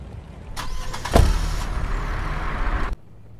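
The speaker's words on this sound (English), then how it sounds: "This traffic is terrible." Road traffic with cars and trucks passes in a dense, continuous rumble, with a loud thump and an air-brake-like hiss, then cuts off abruptly.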